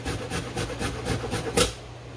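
Raw vegetable rasped down on a grater while held on a fork, steady rhythmic scraping strokes close by, with a slightly louder stroke near the end and no talking.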